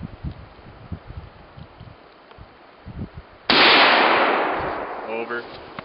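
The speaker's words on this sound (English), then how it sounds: "Attempt at shooting tannerite." Antique Mauser bolt-action rifle shot setting off tannerite in a North Woods setting: one sudden, loud blast after quiet outdoor ambience, its roar then slowly fading over a couple of seconds.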